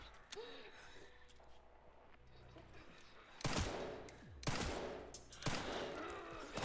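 Gunshots in Resident Evil Requiem, a few loud sharp blasts arriving in the second half after quieter game ambience, with spoken voices in the mix.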